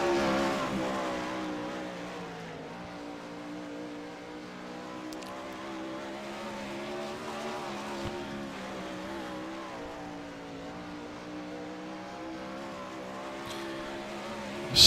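Wingless 360 sprint car circling the track at Charlotte during a Monday night series qualifying run, its engine a steady droning roar with shifting pitch, moderately distant and continuous without a break.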